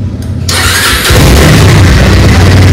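A Bajaj Avenger Cruise 220cc motorcycle starts up close by: a brief starter whir, then the engine catches and settles into a loud, steady exhaust idle rumble.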